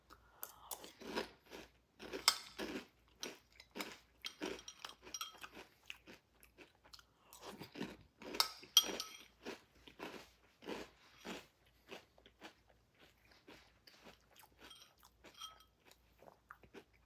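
Kelce Mix cereal eaten with milk, close crisp crunching and chewing in repeated bites with short pauses, quiet and alone without talk.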